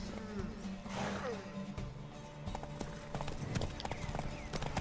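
Horse hooves in The Witcher 3: Wild Hunt, steady clip-clop footfalls on hard ground with a horse neigh early on, moderately close amid ambient game sounds.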